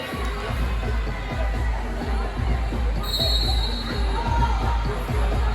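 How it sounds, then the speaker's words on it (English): Crowd at a Cincinnati versus Louisville roller derby bout in Cincinnati, Ohio: a sustained, fairly loud roar of cheering and shouting through an arena, with hollow thumps and a whistle-like tone partway through. "Roller derby fans, if you are having a good time, let me know that you're here with a big old cheer."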